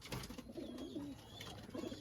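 Soft, low pigeon cooing murmurs in short rolling phrases, close by, over a steady background hiss with no talking.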